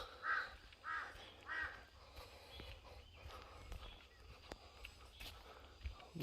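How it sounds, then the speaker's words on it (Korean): Three loud crow caws in quick succession near the start, followed by quieter outdoor ambience with faint clicks and distant birds. "까마귀가"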